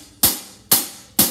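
A closed hi-hat, played with the foot pedal held down as part of a percussion instrument set, struck three times at an even pace, each hit a crisp, bright tick with a short decay, close and alone.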